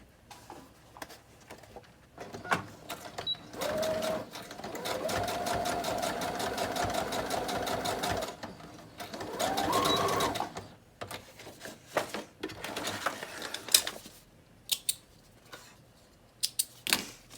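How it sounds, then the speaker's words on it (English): A sewing machine runs steadily for several seconds, stitching ruffles onto a gold pleather journal, with a rhythmic mechanical whir and ticking; shorter bursts and clicks come before and after. "I'm just going to stitch them on, kind of, you know, ruffle them as I go."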